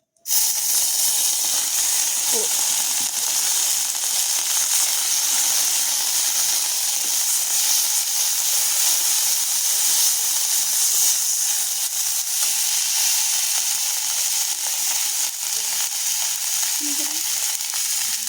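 Ground spices tipped all at once into hot mustard oil for a pabda fish curry, sizzling and hissing loudly and steadily for a long stretch without pause.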